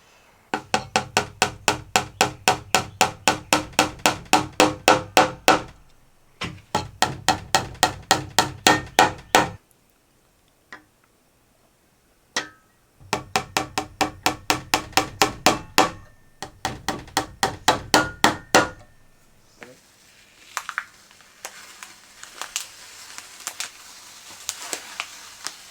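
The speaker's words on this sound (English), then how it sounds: "I need an antique hammer for an antique job" An antique hammer tapping at an old wood floor during restoration work, with long bursts of rapid, evenly spaced strikes close to the listener, separated by short gaps and then a few scattered, softer knocks and rustling near the end.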